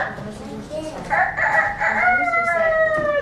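Children imitate a rooster crowing, with wavering, drawn-out tones that rise together over background chatter.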